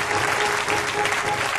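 Church congregation applauding during a sermon, steady dense clapping filling the space without pause.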